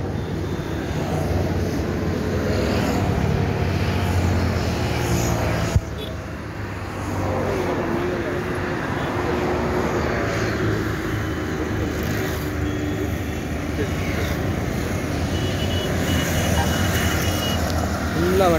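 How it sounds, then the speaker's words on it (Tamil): Road traffic on a busy ring road near Madurai, a continuous near rumble of vehicles passing with low engine drone and a brief bump partway through, while people talk over it. "ஃபுல்லாக வண்டி போய்கிட்டு இருக்கக்கூடிய இடம்."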